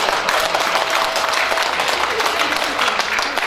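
Partial round of applause from a lecture audience at a talk on Korea's present and future, a broad continuous wash of many hands clapping at fairly close range, steady throughout without speech.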